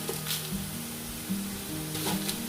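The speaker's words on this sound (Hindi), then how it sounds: "तो प्याज के साथ तब तक फ्राई करेंगे जब तक मज़ीद जो प्याज है थोड़े से और गोल्डन हो जाए।" Whole spices (cumin, black cardamom, cloves, black peppercorns, cinnamon, bay leaves) and onions sizzling in hot oil for chana pulao, a steady close crackle with low hum and brief stirring bursts.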